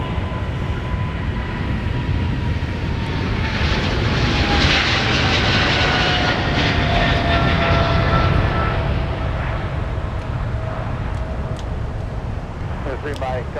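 Jet airliner engines roar loud and steady at Minneapolis airport, a broad rushing rumble with a falling whine that runs through the whole stretch, while radio voices talk over it.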